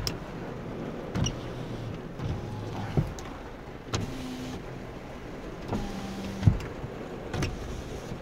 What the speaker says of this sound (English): I'll put the windows down a bit.